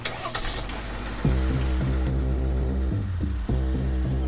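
A Chevrolet Silverado Trail Boss truck engine in a Chevy Truck Month advert, a deep throbbing idle that jumps louder as the engine revs, with rhythmic pulsing and a brief dip near the end.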